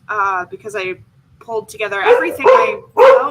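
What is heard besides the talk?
dog barking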